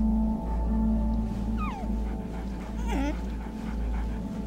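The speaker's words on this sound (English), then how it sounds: "Baby dogs." Puppies whimper in Metal Gear Solid: The Twin Snakes, with a few thin, high, wavering cries rising over a steady low background drone.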